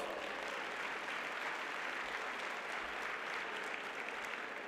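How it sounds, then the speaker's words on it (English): Applause from a crowd, a steady, even wash of clapping at moderate distance that holds throughout without pause. "Please welcome him with a round of applause."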